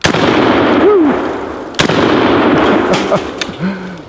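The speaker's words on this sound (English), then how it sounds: "I'm going to shoot the cowboy twice" A DP-12 shotgun fires twice at a steel cowboy target, two loud, sharp blasts about two seconds apart, each followed by a brief metallic ring and rumbling echo outdoors.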